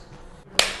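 A single sharp hand clap to sync the recording, close and crisp, ringing briefly after a quiet moment.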